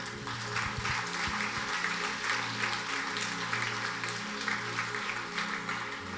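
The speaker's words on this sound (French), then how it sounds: "Est-ce qu'on peut acclamer la parole?" A church congregation claps steadily for several seconds after a Bible reading, a dense, even patter of applause filling the hall.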